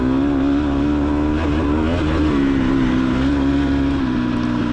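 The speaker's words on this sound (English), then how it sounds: "it's gonna open up here, so we'll pop it up into third gear and just pin it" A racing car engine held at full throttle in the TORCS racing game. A loud, continuous droning roar swells and dips slightly in pitch but never lets off.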